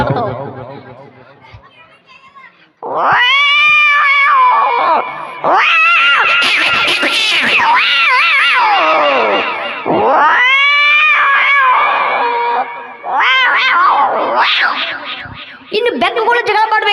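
A voice imitates cats fighting, with long wailing yowls and screeches rising and falling in several loud bursts, close and harsh.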